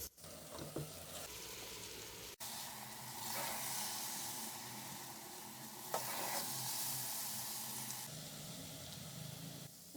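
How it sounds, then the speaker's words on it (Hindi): Gajar halwa with milk powder being stirred in a pan, a soft sizzling hiss with scraping strokes of the spoon that swell and ease in waves, one sharp knock early on, fairly quiet and close. "अब हम इसको अच्छे से मिक्स कर लेंगे।"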